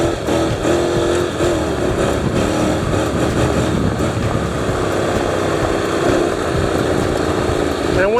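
A Honda NC700X with a DCT gearbox is being ridden, its engine droning steadily and loudly throughout with wind rush over the microphone, while a rider talks underneath.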